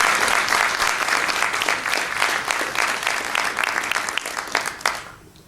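Applause from an audience at a congressional town hall question session, steady dense clapping throughout that thins and fades out near the end.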